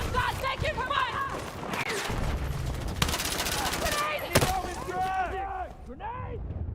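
Rapid gunfire bursts and single shots in the video game Battlefield 6, loud and continuous, with players shouting over the shooting.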